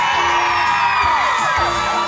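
A live concert crowd at a Meiji Bulgaria 10th anniversary show screams and whoops together in a steady, dense roar that holds for about two seconds, loud and close, with no clear talk above it.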